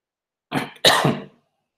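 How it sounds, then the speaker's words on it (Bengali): A person giving a lecture coughs twice in quick succession, a short burst followed by a longer, harsher one, close and otherwise quiet. "আমার হচ্ছে একটু কাশি শুরু হয়েছে"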